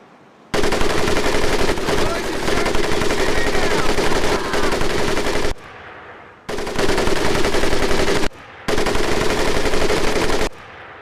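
Machine gun firing at the boot camp range in Medal of Honor Pacific Assault: loud, close, continuous bursts, a long five-second stream followed by two shorter bursts separated by brief pauses.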